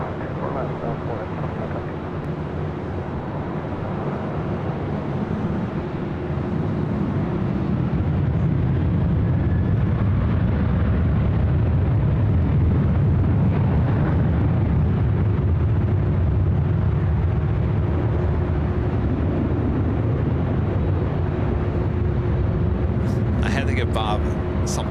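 A Southwest airliner takes off from runway 24 left at LAX, its broad, distant jet roar building and holding steady under people talking.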